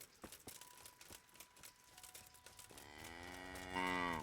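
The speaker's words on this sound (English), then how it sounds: "Oh, there's the cow." A cow moos in the medieval video game Kingdom Come: Deliverance, a long, loud, harmonic low call that swells toward the end, rising out of quieter game ambience and footsteps.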